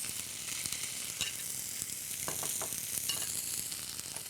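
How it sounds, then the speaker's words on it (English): Shark steaks searing in a hot pan, giving a continuous quiet sizzle with a few faint crackles and light shifting sounds, heard up close with no talk. "So we're just gonna place those in there and get a nice good sear going."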